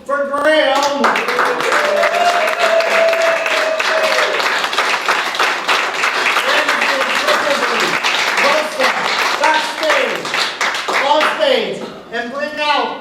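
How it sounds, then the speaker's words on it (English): An audience at a magic show applauds loudly and continuously, with a presenter talking over the clapping and cheering. "Keep that applause going for Graham"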